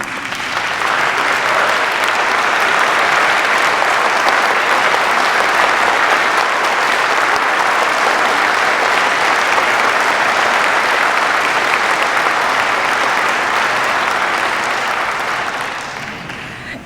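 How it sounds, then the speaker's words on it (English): Sustained audience applause at a Korea-US alliance anniversary evening event, a thick, even roar of many hands clapping for over fifteen seconds before tapering off. "A round of applause"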